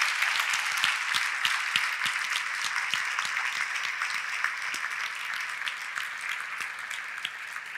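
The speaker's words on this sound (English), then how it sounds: "I still think we need to give Doug and all the city council members a special round of applause." A city hall crowd claps for the council members with steady, even applause, moderately distant and sustained throughout with individual sharp claps standing out.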